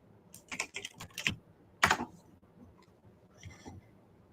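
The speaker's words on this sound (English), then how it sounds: "I love my clicky clacky keyboard." Clicky mechanical keyboard being typed on in a burst of sharp, uneven keystrokes, a louder cluster near the middle and a few scattered clicks after, close up with no talking.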